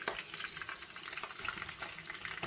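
Shrimp sizzle with onions frying in a pan, a close, constant crackle marked by quick irregular stirring clicks, with no talking.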